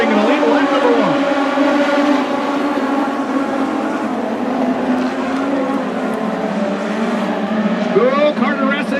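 Legends race cars charging through the turns at Fix It Forward Speedway in an INEX A-Main, a loud, sustained roar of several engines from a close pack, under a race announcer's steady commentary.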